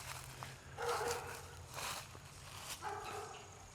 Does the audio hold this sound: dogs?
yes